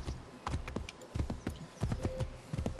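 A horse's hooves clip-clop in a quick, steady galloping rhythm as a rider travels toward a ship in the video game Assassin's Creed III, loud and close with no talking.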